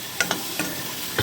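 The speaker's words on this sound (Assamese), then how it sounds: "এতিয়া এইটো ভাজি আছোঁ চাটনি বনাবৰ কাৰণে।" Ingredients for a chutney fry in a pan with a continuous sizzle and a few quick spatula taps during stirring.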